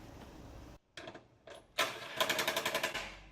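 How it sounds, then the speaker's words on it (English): Impact wrench tightening bolts on an Iron Rock belly skid plate under a Jeep WJ, heard as a few short whirring bursts and then a loud run of rapid rattling hammer blows. "I'm just tightening them a little bit with the impact wrench"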